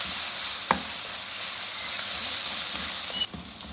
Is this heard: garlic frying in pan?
yes